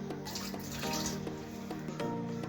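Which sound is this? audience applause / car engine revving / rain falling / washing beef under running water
washing beef under running water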